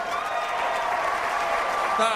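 Audience clapping in a hall for a motivational speaker, a steady wash of many hands under a faint tonal hum, with a voice breaking in at the very end.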